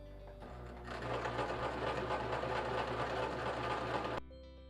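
A sewing machine stitches fabric strips together for a project bag, its motor running in a fast, steady whir for about three seconds before stopping, close and loud with no talking.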